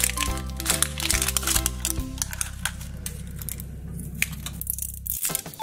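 A LOL Surprise fizz charm packet is torn and its plastic crinkles and crackles up close, with sharp rustling bursts over a steady background music bed.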